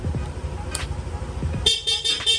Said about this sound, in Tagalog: Sa busina, ito po yung stock horn.